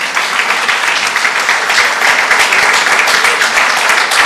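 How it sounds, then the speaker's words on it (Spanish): Loud, dense applause from an audience at a gathering on the memory of peasant struggles of the seventies, a steady close wash of clapping that holds level throughout with no speech. "voy a pedir un fuerte aplauso a la memoria de Víctor Toto Nadalich."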